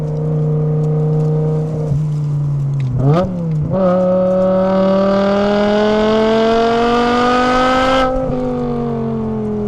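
Custom naturally aspirated BMW E61 M5 Touring wagon with a six-speed manual pulling hard on a twisty road, engine note climbing steadily in pitch through the gears with a brief dip at a shift, loud and close throughout, no talking.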